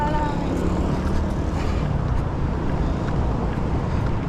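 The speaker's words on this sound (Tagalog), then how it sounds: "May hangin eh." Steady wind rushes outdoors in Saudi Arabia, a constant broadband roar buffeting the microphone with low rumble throughout, no pauses or gusts standing out.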